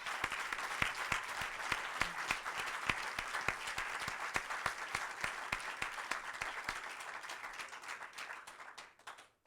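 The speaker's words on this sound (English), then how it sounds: "Let's give them a round of applause." Sustained audience applause at a charity awards ceremony, dense clapping from a crowd, steady and fairly close, fading out near the end.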